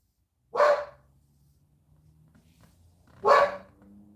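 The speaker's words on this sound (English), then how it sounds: "This dog's about as smart as Pete Carroll and Geno Smith, bro" A dog gives two loud, sharp barks about three seconds apart, close by, with a low quiet rumble between them.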